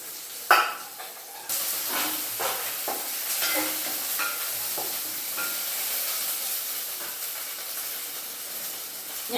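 Curry leaves and urad dal crackle and sizzle in hot oil for a kodo millet upma, opening with a sharp burst and settling into a steady, close hiss with light stirring.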